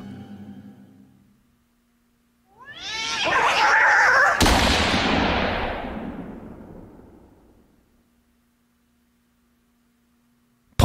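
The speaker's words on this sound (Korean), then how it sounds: "고양이 울음소리" A long, rising and falling cat yowl swells loudly out of silence and slowly fades, with a low steady hum underneath.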